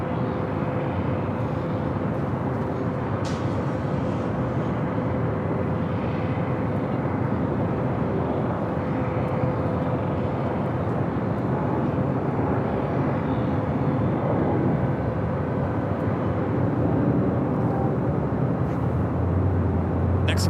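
A heavy Air Tahiti Nui Boeing 787-9 Dreamliner arrives at LAX, giving a steady, moderately loud engine rumble with a low tonal hum that holds evenly across the whole stretch, and no voices.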